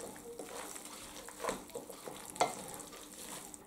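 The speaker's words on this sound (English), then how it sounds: "And then give that a good stir." Game pie filling stirred in a pan, a soft low sizzle under a few quiet scraping strokes, the two strongest a second apart, faint and close with no talking.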